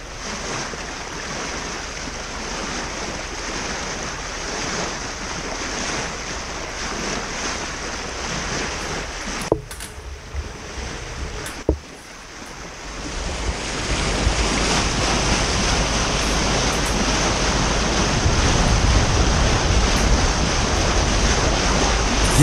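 A 1976 JonkerPaans motorboat cruises slowly at about four knots, with steady water wash, surf and wind noise filling the sound throughout; a brief dip midway is followed by a louder, rougher rush of water and wind.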